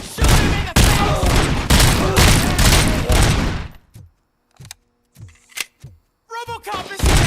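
Loud bursts of sustained gunfire in the PS5 game RoboCop: Rogue City, roughly four seconds of dense, continuous shooting, then scattered single shots and short impacts with brief silent gaps between them.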